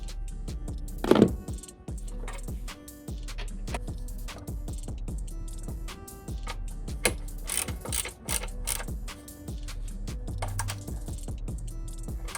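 A hand ratchet tightens the battery hold-down bolts on a Range Rover Evoque L538, with quick clicking bursts in uneven runs, close and fairly quiet, plus occasional knocks of tools on metal.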